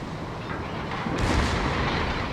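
Heavy battleship guns fire in World of Warships, one deep booming salvo that swells out of a constant dense roar of wind and sea, close and loud, rolling on afterward.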